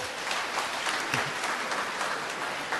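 A church congregation bursts into loud, sustained clapping during an evening homily, a dense, steady wash of many hands that holds at an even level throughout, with no voices over it.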